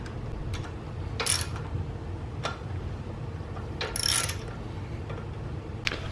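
A wrench ratchets on a nut while an 8mm Allen key holds the bolt, fitting a T-Rex Racing crash kit to a Kawasaki KLX351; a few separate clicking ratchet bursts sound close over a low background.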